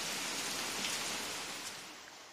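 Torrential rain falls in a foggy mountain area, a constant broadband roar of drops that holds steady and eases slightly near the end, with no speech.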